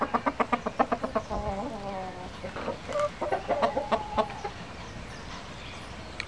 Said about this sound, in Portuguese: Tenho o galo showgirl, duas galinhas showgirl e quatro galinhas sedosas.